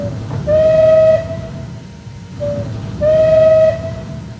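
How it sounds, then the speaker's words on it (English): The V whistle of an SR Merchant Navy class steam locomotive in Train Simulator 2022 gives two loud, sustained blasts of about a second each, separated by a pause, over a low rumbling background. "Here's the V whistle."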